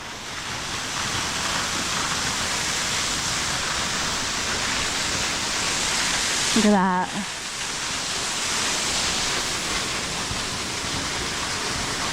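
A side-by-side off-road vehicle plows through a creek near Mulberry Mountain, with steady loud broadband water rush and splashing across the whole stretch and a brief voice heard over it midway.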